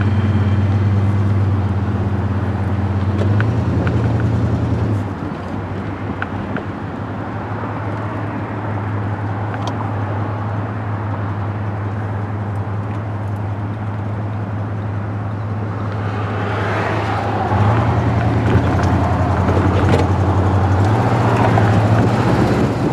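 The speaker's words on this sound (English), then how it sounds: "It's idling real nice." A 1968 Cadillac Deville V8 fitted with a new Edelbrock carburetor idles steadily and loudly nearby, a deep continuous rumble whose tone shifts slightly partway through.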